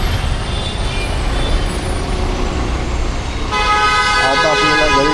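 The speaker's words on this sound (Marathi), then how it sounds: "खूप म्हणजे खूप ट्रॅफिक आहे." Heavy Monday road traffic of cars, trucks and buses makes a dense, continuous engine roar, and a long, loud horn blares over it for the final stretch.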